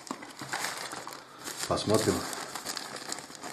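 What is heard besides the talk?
crinkling of a small parcel bag being unpacked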